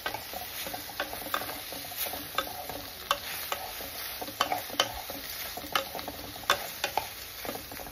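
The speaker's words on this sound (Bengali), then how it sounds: "মাশরুমটাতে মশলা দিয়ে এবার ভেজে নিই।" Mushrooms fry with spices in a pan, a steady sizzle carrying through with frequent sharp scraping clicks of a spatula stirring at irregular intervals, close and moderately loud, no voices.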